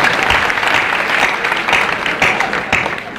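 An audience at a Hindi poetry gathering (kavi sammelan) claps loudly and steadily for several seconds, a dense, close burst of applause with no talk over it.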